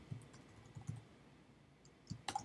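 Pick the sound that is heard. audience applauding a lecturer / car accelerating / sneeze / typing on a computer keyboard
typing on a computer keyboard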